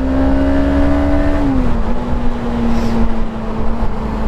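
A Suzuki GSX 250 R motorcycle engine accelerates steadily, its droning tone holding loud and close, then dipping slightly as it shifts and pulls on at an even pitch.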